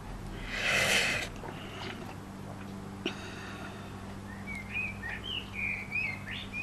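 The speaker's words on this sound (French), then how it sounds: "Vous entendez les oiseaux comme ils chantent?" Birds chirp and sing in short warbling phrases at a moderate distance, with a brief rustling burst early on and a low steady hum beneath.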